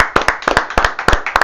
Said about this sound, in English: clap it up for yeah,